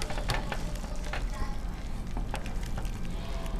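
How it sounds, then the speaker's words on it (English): White rice for a Haitian dish is stirred in a pot over very low heat, giving a soft scraping swish over a steady faint simmering hiss, close by and quiet. "you're going to go ahead and stir that."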